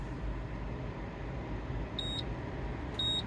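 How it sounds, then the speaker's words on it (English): Two short electronic beeps from an Autowatch Ghost II immobilizer, about a second apart, sound over a low steady engine hum inside a 2024 Toyota Sienna. "I hear those two beeps, and now I'm able to put the car in reverse or drive"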